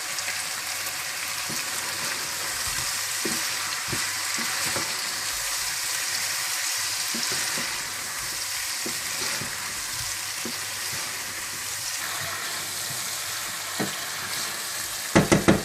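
Ground dried chili seeds and salt being fried and stirred in a pan for chicken white korma. A continuous loud sizzle with intermittent scraping strokes sounds close, and a few clatters come at the end, with no one talking.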